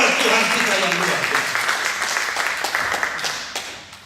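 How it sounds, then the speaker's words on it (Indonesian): A church congregation applauds in a broad, dense wash of clapping that starts loud and slowly tapers off over a few seconds, with some voices mixed in. "Tepuk tangan yang meriah buat Tuhan kita yang luar biasa."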